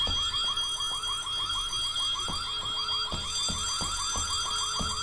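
A harsh, continuous electronic alarm rings in the horror video game White Day, a loud, steady warbling tone that pulses in rapid repeating cycles with no talking over it.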